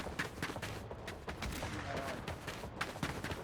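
Rapid gunfire from a healing rifle in a 1v1 shooter video game, a quick run of sharp, fairly quiet shots in an uneven burst pattern, with no voices.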